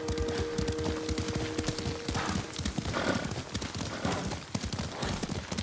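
Horse hooves galloping in the video game Ghost of Tsushima, a rapid, steady clip-clop rhythm close by, with a brief tonal note early on and no talking.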